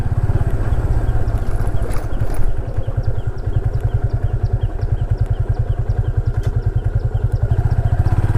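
A motorcycle putters slowly in first gear across a sandy beach, its engine thumping in a steady, close, low rhythm with faint clattering throughout.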